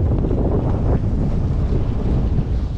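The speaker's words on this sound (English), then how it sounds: "getting hit with 20, 25 knots of wind from the storm" Strong 20 to 25 knot storm wind hits a sailboat at sea and roars steadily and loudly across the microphone, with water rushing beneath it and no voices.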